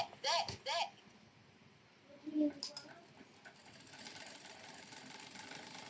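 A domestic sewing machine stitches decorative pattern 7 with a double thread, running as a faint, steady mechanical patter that builds through the second half. Brief tones and clicks come first, and a voice speaks softly near the start.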